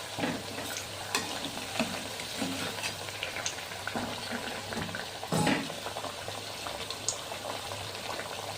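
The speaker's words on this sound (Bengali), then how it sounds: "এইভাবে উল্টো পাল্টা করে ভেজে নিতে হবে।" Thekua, a sweet fried dough snack, bubbles gently in oil over low heat while being flipped, a soft continuous fizz broken by occasional scraping and stirring knocks, close and fairly quiet.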